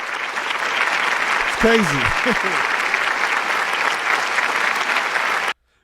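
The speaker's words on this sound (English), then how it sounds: "can I get another round of applause?" A large concert crowd applauds loudly and continuously, a dense roar of clapping and cheering, while someone briefly speaks over it before the sound cuts off abruptly.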